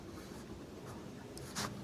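Marker or chalk scratching across a board during a Class 10 maths lesson on cones, a steady soft stroking texture with a brighter burst of strokes near the end, no voice heard over it.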